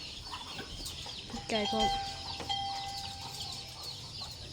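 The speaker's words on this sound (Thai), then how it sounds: "มีไก่" Chickens cluck outdoors in a rural Lao setting. Short clucks and a few louder calls sit over a quiet ambient background, and brief speech is heard.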